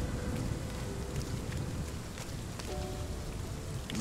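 Steady rain in the video game RiME, a dense hiss of drops pattering on surfaces with a faint wind beneath, even and unbroken throughout.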